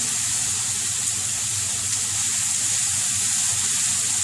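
Onion frying and being stirred in a pan for a coconut chicken curry, a steady, loud, hissing sizzle that holds evenly throughout with no talking.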